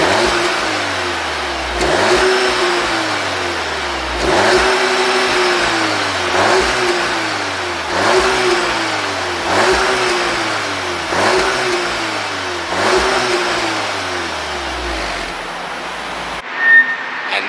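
An Audi S3 in dynamic mode revs at standstill seven times in a steady rhythm, each blip rising sharply then falling back with a throaty exhaust note, close and loud.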